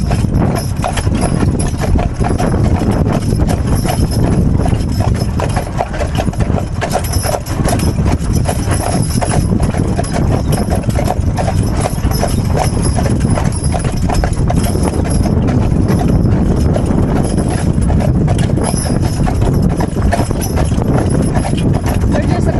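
Hooves of Percheron draft horses clip-clop steadily and close by on a Sunday drive, a continuous rhythmic clatter that runs throughout with people talking over it.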